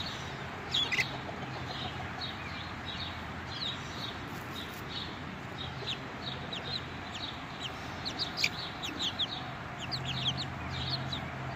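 Young White Crested Polish chicks about three and a half weeks old cluck and peep in short, scattered bursts over a steady low background hum, fairly close by and with no talk.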